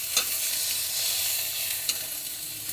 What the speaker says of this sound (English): you grab it and you turn it over and fry the other side